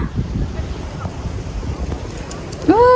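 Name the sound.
wind at Koshi barrage Chatara bridge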